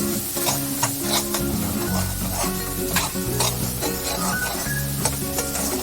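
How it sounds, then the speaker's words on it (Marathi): Ground coconut paste being stirred and roasted in a pan, giving a continuous close sizzle with repeated scraping strokes of the spoon over a steady tonal background. "हे खोबऱ्याचं वाटण सुद्धा आपल्याला याच पद्धतीने परतून छान भाजून घ्यायचं आहे"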